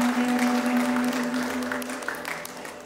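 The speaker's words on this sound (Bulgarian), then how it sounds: "Аплодисменти за майката на булката!" Applause for the bride's mother during a wedding ceremony, a steady mid-level patter of many hands clapping that slowly fades over a few seconds, with a faint sustained tone beneath it.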